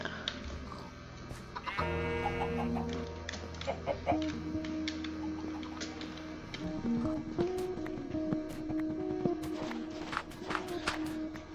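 Chickens in the Minecraft video game cluck repeatedly amid a busy mix of blocky game effects, clicks and tonal chimes, with a steady bed of background game sound throughout and no talking.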